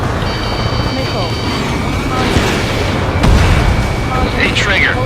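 Missile launches and explosions in the Ace Combat 7 air-combat game, a steady roar of jet noise with booming blasts, the loudest near the end, while radio voices and warning tones sound over it.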